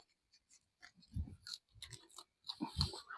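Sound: chewing bitter caper plant leaves (ผักก่าม)

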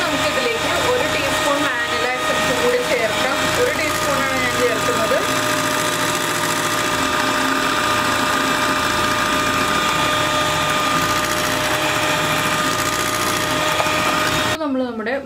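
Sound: electric hand mixer beating eggs and sugar at high speed

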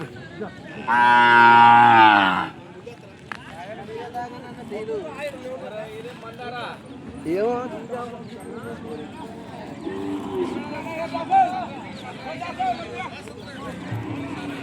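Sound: Ongole calves mooing at Kodad market

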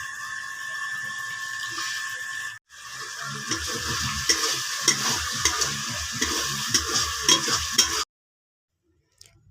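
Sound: spice paste being fried in oil

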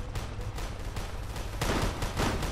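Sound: gunfire in a tactical army video game

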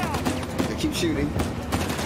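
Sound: gunfire in the video game Uncharted: The Lost Legacy

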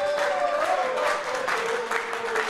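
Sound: studio audience applause

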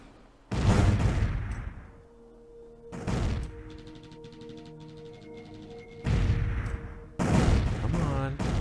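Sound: ships firing weapons in video game Distant Worlds Universe

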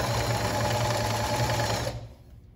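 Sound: sewing machine stitching a dish towel

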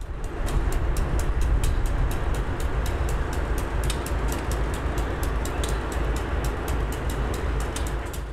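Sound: freight train locomotives working in a rail yard

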